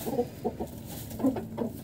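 A hen being handled during a youth poultry showmanship demonstration clucks repeatedly in short, uneven bursts, close by and moderately loud, with no talk over it.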